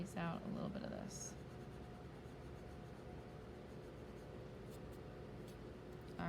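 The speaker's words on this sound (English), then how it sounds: "Might even go in and erase out a little bit of this." An eraser scrubs steadily across pencil shading on paper, a soft continuous rasp held close and fairly quiet, with a louder start and a few brief sharper strokes.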